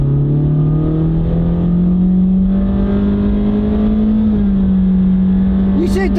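Honda car with a CVT accelerating hard on a drag strip, engine held at a high, nearly constant drone with the pitch creeping up slowly and one small dip.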